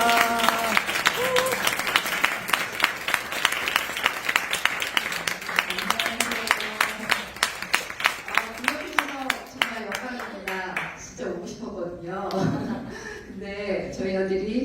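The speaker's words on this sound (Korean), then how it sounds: "우리와 같은 박수로 환영해 주시기를 부탁드릴게요" A church congregation claps to welcome a speaker, steady applause with cheers under a voice, then fading into speech as the clapping dies away.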